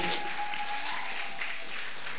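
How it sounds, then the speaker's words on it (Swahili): Steady applause from a crowd, dense and continuous clapping filling the whole stretch at a moderate, even level. "Muongezee makofi mazuri tena."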